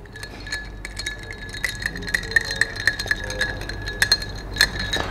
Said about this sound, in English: So you have to stir before you can drink this.